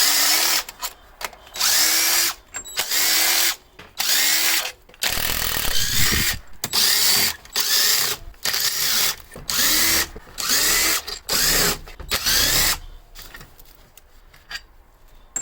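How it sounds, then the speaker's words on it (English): An impact gun spins bolts out on a Fiero fuel system during a rebuild, firing in repeated loud short bursts of whirring and hammering separated by brief pauses, close up, with no talking. "I then removed them the rest of the way with my impact gun."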